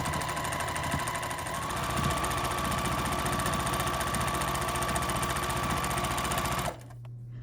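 A sewing machine quilts fabric for mini Christmas stocking ornaments, running in one continuous fast rattling drone with a steady whine, close and loud, then cutting off abruptly near the end, leaving only quieter background hum.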